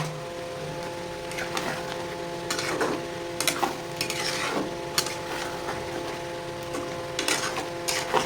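Prawns fry in hot oil in a pan, giving a steady crackling sizzle broken by repeated sharp scrapes and clatters of stirring, close and fairly loud.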